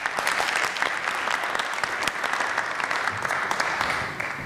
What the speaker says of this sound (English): Everybody give him a big applause.